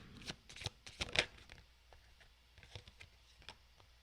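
Tarot cards being shuffled by hand, a quick run of soft riffling clicks that fades into scattered light taps, close and quiet with no talking.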